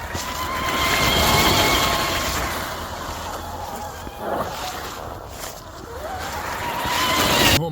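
FMS FCX10 LC80 RC crawler driving in second gear, its small electric motor and gears whining steadily with rising and falling pitch as it speeds along, fairly close and without talk.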